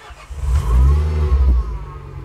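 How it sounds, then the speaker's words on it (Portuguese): A Renault Sandero RS engine runs and revs up, its deep mid-pitched roar rising and holding for about a second before easing back, close and loud with no talking. "Vamos ligar o carro para ver funcionar?"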